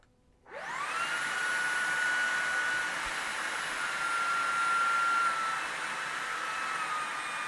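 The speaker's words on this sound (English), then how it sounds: "So that was medium mode on the Detect Pro." A Shark Detect Pro vacuum cleaner on medium mode spins up sharply and then runs at a steady, close, whining hum with a strong airy roar.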